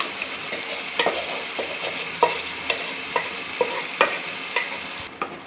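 Gongura shrimp curry being stirred in a hot pan, a spoon scraping and clacking against the metal in a steady rhythm over a soft background sizzle, close and fairly loud with no talking.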